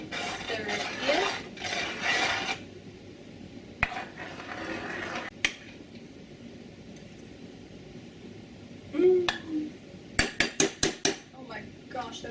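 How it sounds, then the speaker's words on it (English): Spoon stirring spice into homemade pear sauce in a pot, with bursts of scraping and clinking against the pot, a few sharp isolated knocks, then a quick run of taps near the end. "Stir it in."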